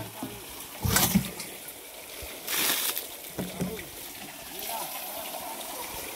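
Water flowing at an outdoor spot, heard as a few bursts of gushing and splashing against a constant rushing background, with people speaking nearby.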